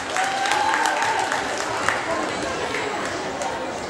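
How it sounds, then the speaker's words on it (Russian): An audience at a belly dance championship in Yalta applauds a contestant with sustained clapping, fairly close and steady, while a voice talks briefly over the start. "Давайте поддержим аплодисментами эту участницу."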